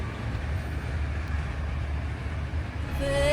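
The steady low rumble of a moving train carriage interior in Greece, continuous and muffled, with a faint brief tone near the end.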